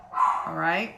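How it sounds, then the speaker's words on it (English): Pet dogs barking in the background of an indoor home setting, a couple of short yipping barks heard faintly behind a person's speech. "You might hear my dogs barking in the background."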